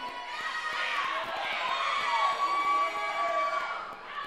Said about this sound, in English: Oh, don't cheer now. The cheer is done.